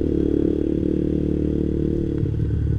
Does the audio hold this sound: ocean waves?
no